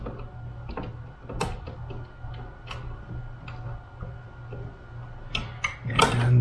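A ground wire connector being tightened down with a screwdriver in electrical wiring for a 3D print farm, a series of faint close ticks and clicks in irregular rhythm over a low hum, ending in louder scraping and rattling.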